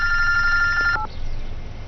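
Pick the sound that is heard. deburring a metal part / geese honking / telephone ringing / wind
telephone ringing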